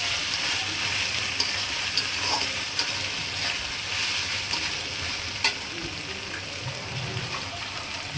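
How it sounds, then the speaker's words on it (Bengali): Beef frying in a pot with ginger garlic paste, a steady loud sizzle with scattered scraping knocks as a utensil stirs it. "আদা রসুন বাটা দিয়ে একটু নাড়াচাড়া দিয়ে নেই"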